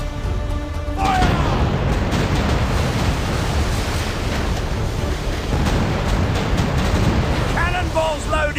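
Ship cannons boom continuously in a pirate naval battle game, a dense, loud roar of blasts and rumbling over crashing water, with shouted voices mixed in.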